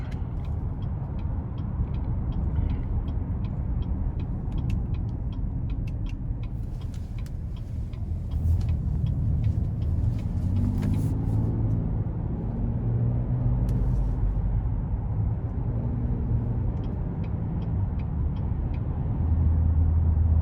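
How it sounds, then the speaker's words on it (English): A 2020 Buick Enclave Essence mid-size SUV with a 3.6 engine pulls out of a dealership parking lot, heard from inside as a steady low rumble with a quiet, regular ticking like a turn signal. "the Enclave is very responsive as I pull out of the parking lot of the dealership"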